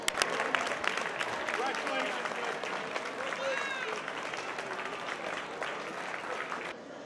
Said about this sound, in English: please give a round of applause for Richard Tashjian.